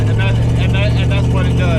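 The engine of a 1968 Dodge Charger R/T with an Edelbrock or Holley carburetor roars loud and close as the accelerator is pressed. It holds a deep, steady rumble under a voice talking.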